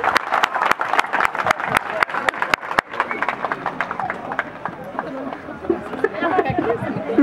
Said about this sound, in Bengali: আমার মনে হয় 1 মিনিট ধরে জোরে হাততালি দেওয়া উচিত